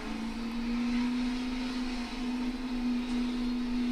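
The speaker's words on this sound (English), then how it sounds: "Using the motor to decelerate that car." A NASCAR Cup car's engine slows the car on the approach to pit road at Dover, a steady, droning motor note held for several seconds.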